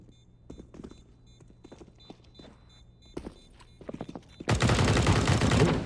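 Gunfire and footsteps from a CS:GO match on Mirage: scattered sharp shots and scuffling steps, then a loud sustained burst of rapid rifle fire near the end.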